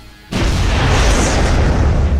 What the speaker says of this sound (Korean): 도시의 절반을 날려버리고 맙니다.